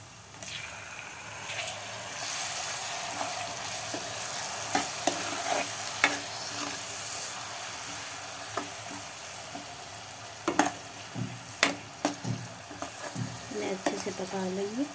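Tomatoes and onions frying in a pan for dhaba-style paneer bhurji, a steady close sizzle throughout with scraping stirs and sharper clinks of the spoon against the pan toward the end.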